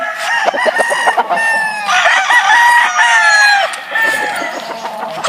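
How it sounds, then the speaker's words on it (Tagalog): A gamefowl rooster crows repeatedly on a farm, loud and close, with other chickens clucking around it. "Paborito kong manok ko."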